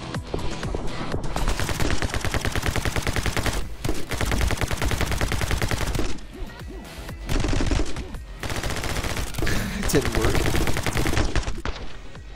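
Rapid automatic gunfire from a video game rattles in long sustained bursts, loud and close, broken by a few brief pauses, with a voice occasionally talking over it.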